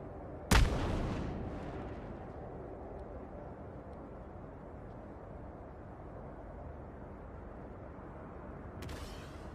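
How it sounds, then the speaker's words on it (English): A single sharp burst from a smoke grenade effect in an Unreal Engine game asset test, followed by a long airy hiss that fades slowly, then a faint second pop near the end. "That's the smoke grenade?"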